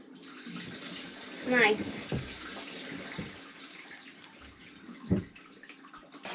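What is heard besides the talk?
water flowing from a hose into a boat's water tank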